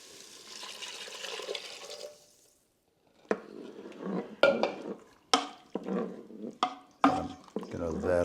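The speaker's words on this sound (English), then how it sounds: "Let's go ahead and add our stock." Stock poured into a pot of vegetables, with a steady liquid pour followed by a pause and then several sharp clanks and scrapes of a utensil against the pot, under intermittent talk.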